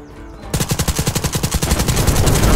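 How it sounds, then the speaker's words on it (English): A submachine gun in the game Black Skylands fires a loud, rapid burst of evenly spaced shots that starts abruptly after a quiet half second and keeps going to the end, with no voice over it. "let's go with the little SMG thingy"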